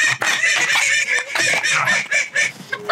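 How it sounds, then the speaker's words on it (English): A chicken at a poultry show clucks close and loud in rapid, repeated bursts, with other fowl calling in the busy background. "this chicken escaped"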